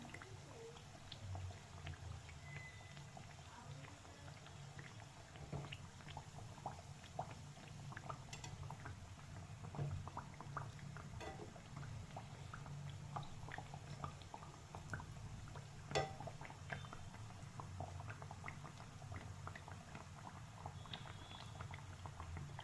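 Matar kachori deep-fry in hot oil with a soft, continuous bubbling and faint crackle. The sound is quiet and even throughout, with no voices.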